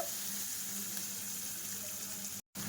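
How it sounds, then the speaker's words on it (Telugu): Onions and green chillies fry in a pan with a steady, close hiss and crackle that runs evenly, then cuts out completely for a moment near the end. "ఆనియన్స్, పచ్చిమిర్చి ఈ ఇంగ్రీడియంట్స్ అంతా బాగా ఫ్రై చేసుకోవాలండి."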